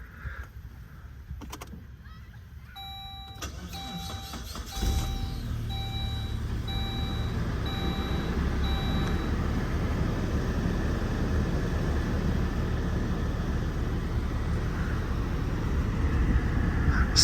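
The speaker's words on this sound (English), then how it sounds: "So then just insert the key and twist it to start." A 2002 Saab 9-3 SE convertible, 150,000 miles, cranks briefly with chiming warning beeps before the engine catches at about five seconds and settles into a steady, close idle hum.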